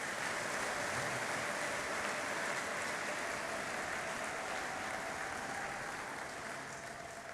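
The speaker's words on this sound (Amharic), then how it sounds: "አመሰግንሃለሁ የሚል ጭብጨባ ለጌታ ብናመጣ" A church congregation bursts into sustained applause to thank God, a dense, steady wash of many hands clapping that holds evenly throughout and fades slightly at the end, with no talking over it.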